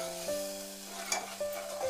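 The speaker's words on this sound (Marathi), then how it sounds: "आणि हे वाटण आता आपण व्यवस्थित परतून घेणार आहोत।" Ground masala paste for Kolhapuri-style bangda (mackerel) fish curry is sautéed in a pan, a soft steady sizzle with a brief stir, under background music.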